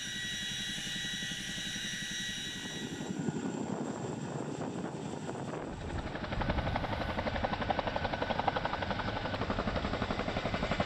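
Chinook twin-rotor helicopter hovering at low altitude over rough sea, a loud, continuous rotor and engine roar with steady rapid blade chop that grows heavier and more pulsing partway through.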